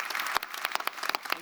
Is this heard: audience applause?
yes